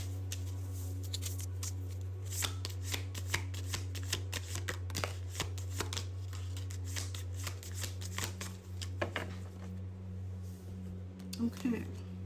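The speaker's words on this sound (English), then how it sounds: "But let's pull a couple more cards here." Tarot cards being shuffled close by, a run of crisp riffling flicks and soft slaps under a low steady hum, with someone talking over the shuffling.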